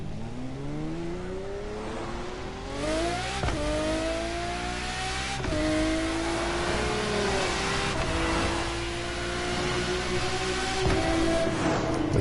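A car engine revs hard and climbs through gears in The Crew Motorfest, loud and close, its pitch rising and falling steadily across several shifts with no talk over it.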